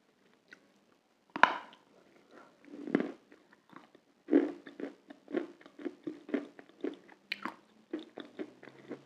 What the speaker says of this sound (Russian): Глухой хруст.